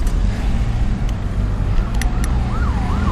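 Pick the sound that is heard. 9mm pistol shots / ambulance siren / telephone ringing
ambulance siren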